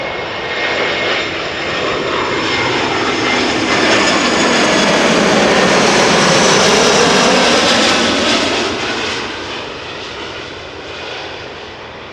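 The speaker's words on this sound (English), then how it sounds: "This is a Lufthansa A320 in the Star Alliance livery." A Lufthansa Airbus A320 in Star Alliance livery arriving at Amsterdam Schiphol, a loud jet engine roar that builds as it passes close overhead, peaks, then fades away.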